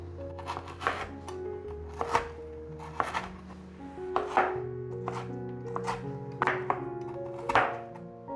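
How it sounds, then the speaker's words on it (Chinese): A knife chops shiitake mushroom stems into strips on a cutting board, about a dozen crisp, evenly spaced strikes over soft background music. "准备2个香菇角，把香菇角切条"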